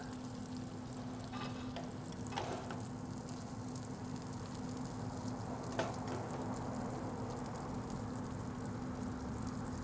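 Dry-aged prime ribeye smash burgers sizzle steadily on a grill, a soft continuous hiss with a low hum underneath and a few faint clicks and scrapes, no talking.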